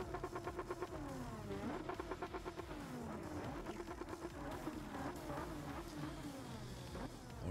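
Race cars in Gran Turismo 7 scream past one after another in a wet, rainy Manufacturers Cup race, high revving engine tones sweeping up and down in repeated passes, fairly faint and with no voices.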